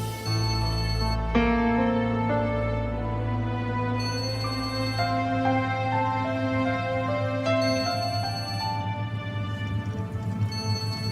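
A melodic phone ringtone plays in sustained, tonal notes, fairly loud and continuous, with a low hum underneath and no talking.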